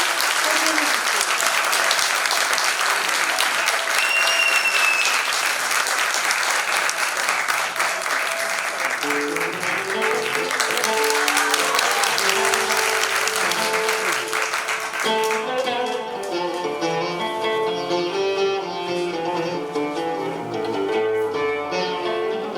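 An audience applauds the oud teacher Pınar Yıldırır, a long, dense wash of clapping that stays loud throughout while a few notes of music sound beneath it.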